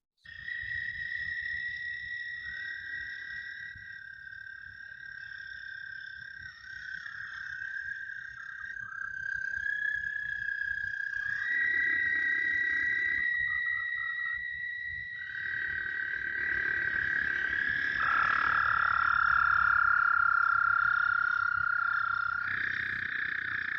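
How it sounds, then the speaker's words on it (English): Several long, steady trills from American toads overlap at slightly different pitches, a continuous droning chorus of toads calling nearby with no pauses. "if you have multiple American toads calling, they kind of often will hit different pitches"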